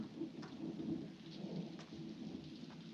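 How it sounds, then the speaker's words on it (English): A film scene carries a continuous low rumble of thunder under steady falling rain, with faint scattered drips and taps over the rain's hiss and no speech. "You hear that thunder?"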